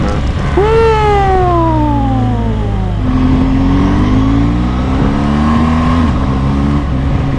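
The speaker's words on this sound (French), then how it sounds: "Tu caresses les gaz et la moto décolle" BMW R1200GS motorcycle accelerating hard on the road, its engine note climbing steadily in pitch through one gear and then another, loud and close throughout.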